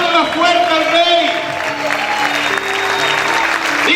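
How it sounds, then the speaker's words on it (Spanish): A church congregation claps and cheers at a worship service, loud sustained applause from a crowd with a preacher's voice and shouting over it. "Aplaude, aplaude más fuerte al Rey."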